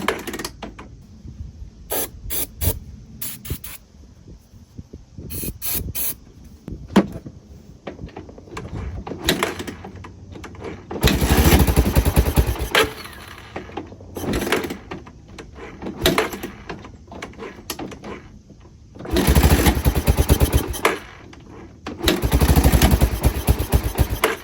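A 1986 Honda Fourtrax 250 ATV engine cranks in short clicking bursts, then fires and runs rough in several loud bursts of a few seconds each, with gaps of quiet between attempts.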